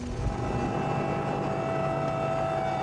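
Steady helicopter engine drone with a sustained mechanical hum and a high whine, continuous and fairly close, no voices, in Barrow, Alaska.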